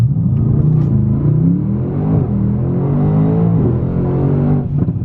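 A straight-piped Mercedes E63S AMG with an exhaust leak, carrying four people uphill, accelerates hard: a loud, close, continuous low rumble with rising engine tones that climb steadily through the pull.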